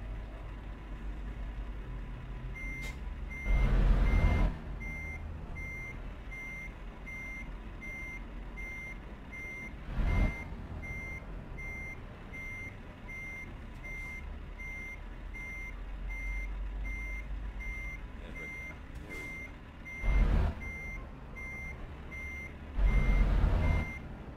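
Reversing beeps from a truck in Euro Truck Simulator 2 repeat steadily at an even pace over a continuous engine drone, with a few louder thumps breaking in.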